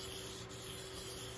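A hair clipper trimmer blade is rubbed flat on sandpaper for sharpening, giving a steady fine gritty scrubbing close up, quiet and continuous with no speech.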